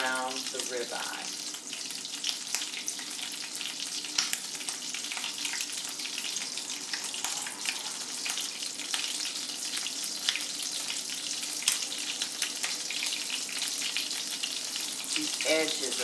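A ribeye steak fries in oil and butter in a pan, giving a loud, continuous close sizzle and spatter that holds steady without pause.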